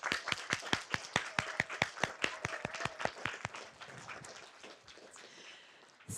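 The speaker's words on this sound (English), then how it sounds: "the board 2022 needs another round of applause at the moment" Applause for the outgoing 2022 board at a general assembly: a small group claps in a loose, sparse rhythm of distinct near claps that thins out and fades toward the end, with faint murmuring.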